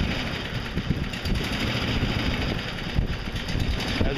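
A small Briggs and Stratton engine runs close by with a steady rough drone that swells slightly now and then as it surges, no voices.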